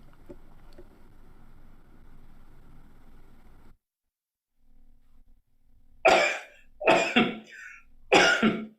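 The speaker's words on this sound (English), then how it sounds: "Oh, It was a cough." Three sharp, loud coughs come in quick succession close by, following a stretch of low background rumble and a brief quiet gap.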